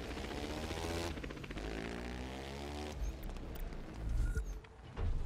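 An airplane's propeller engine drones steadily and fairly quietly in the video game The Crew 2, with a sustained harmonic hum that shifts slightly in pitch.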